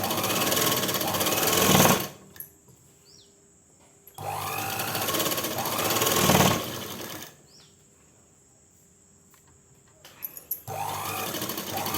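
Sewing machine running bursts of stitching on a sudithar pant hem, two loud runs of steady mechanical whirring separated by quiet pauses, with a short start of a third at the end.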